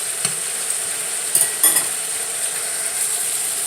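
Salted fish frying in a pan, a steady soft sizzle with faint scraping stirs and a couple of brief clinks, close and without talk.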